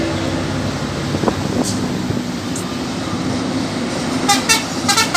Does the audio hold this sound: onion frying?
no